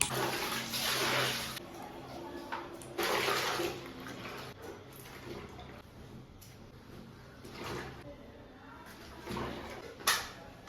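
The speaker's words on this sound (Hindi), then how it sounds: "पानी में डाल देते हैं सर्फ के साथ, उसके बाद फिर धोएंगे।" Water splashes and pours over clothes soaking with Surf detergent in a bucket, in several uneven gushes and sloshes over about ten seconds, moderately close and indoors.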